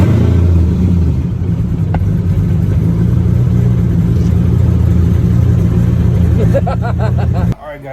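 A Ford Mustang GT with a 3-valve V8 and stage two cams idles loud and close in a choppy, lumpy rumble, then cuts off abruptly near the end.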